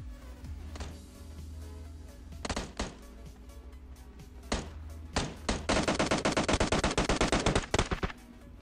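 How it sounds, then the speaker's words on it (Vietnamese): Rapid gunfire bursts in PUBG Mobile on a desert map, scattered single shots followed by a long sustained automatic volley, loud and close with no talking. "Nó bắn cái gì ngoài đây vậy?"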